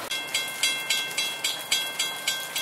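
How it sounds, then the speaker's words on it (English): A Union Pacific freight train rolls past in the rain, its wheels striking rail joints in a steady, evenly spaced clickety-clack over a constant rumbling hiss, close by and fairly loud. "Goes another train with we have UP 30 unit out"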